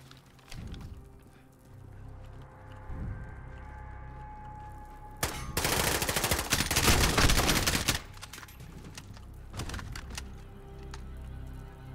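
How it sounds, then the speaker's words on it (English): Enemy gunfire in the video game Call of Duty: scattered shots and short bursts over a low battle ambience, with one loud, dense burst of fire lasting a few seconds near the middle. "Oh, these guys are shooting at us."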